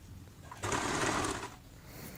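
A sewing machine runs in one steady burst of about a second, stitching ruffles along the bottom edge of a cotton baby frock, with quiet pauses before and after.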